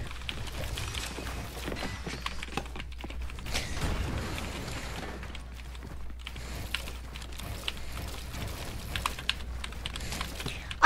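A computer keyboard clatters with rapid, steady key presses during a Fortnite gaming session, the close clicking continuing throughout with no voices.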